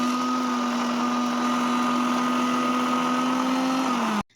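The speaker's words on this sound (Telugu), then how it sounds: "అదే మిక్సీ జార్లో మనం ఈ టమోటా పేస్ట్ని అయితే కొద్ది కొద్దిగా యాడ్ చేసుకుంటూ మిక్సీ పట్టుకోవాలి" A mixer grinder jar blends tomato paste into dried red chili powder with a loud, steady motor whir that holds for about four seconds, then winds down and stops abruptly.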